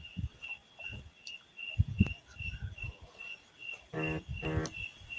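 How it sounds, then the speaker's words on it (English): Crickets chirp outdoors in a rural setting, a steady high trill running through the whole stretch, joined by brief bird calls and scattered low knocks and rustles. "the crickets do sound nice"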